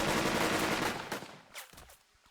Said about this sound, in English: Let's shoot him again.